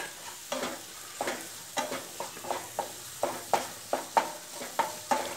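Onions with turmeric sauté in a pan for Kerala-style kadala curry, with a soft constant sizzle broken by regular sharp scrapes of a spoon stirring them.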